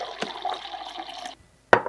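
A refrigerator's water dispenser pours a steady stream of water for over a second, then cuts off, followed by a single sharp click.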